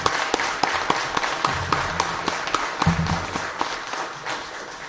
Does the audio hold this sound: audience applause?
yes